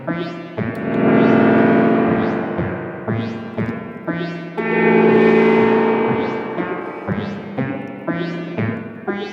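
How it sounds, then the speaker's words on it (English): Twangy, boingy bursts of a modular synth's spring reverb being plucked with a tap button repeat every second or two, swelling and decaying with a metallic, distorted shimmer over a sustained electronic tone. "the tap button in the spring reverb mode lets you pluck the spring"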